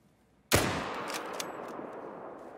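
A single sharp rifle shot from a hunting video game fired at an animal, a loud sudden crack followed by a long rolling echo that fades slowly.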